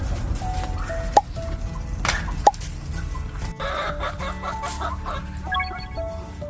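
Hens cluck in a farmyard, a steady chatter of short, close clucks and calls overlapping throughout, with a couple of sharp knocks.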